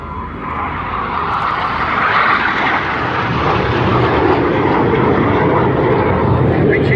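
Red Arrows aerobatic jets performing an airshow display, their engines roaring loudly and continuously for the whole stretch, a broad steady jet rumble that swells slightly as the aircraft pass.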